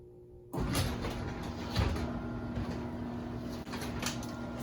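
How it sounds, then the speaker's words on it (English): A garage door opens in a home garage, starting abruptly with a steady mechanical rumble and drone and a constant motor hum, close and moderately loud throughout, with no talking. "The garage door opens."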